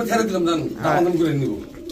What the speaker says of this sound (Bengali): আজকে ইসমাইল ভাই কবুতরগুলো দেখছেন, সবগুলো রেসার কিন্তু ডাউন শেপের কবুতর।